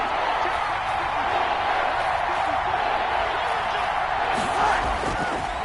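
Stadium crowd in Madden 21 on PS5 rises into a steady, dense roar ahead of a big third-down play in a football game, holding loud and even throughout with a slight swell near the end.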